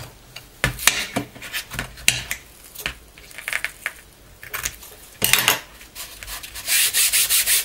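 A chisel scrapes across wood in short irregular strokes, dry rasping bursts close up with brief pauses between them, no talk.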